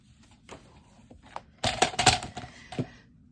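Scissors snipping paper tags for a junk journal, a few sparse close cuts followed by a busier cluster of crisp snips and rustles, with no talking.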